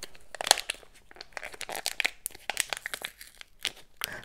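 Wrapper of a Stylevana beauty advent calendar package crinkling and tearing open, with a steady run of close, sharp rustles and crackles that carries on throughout.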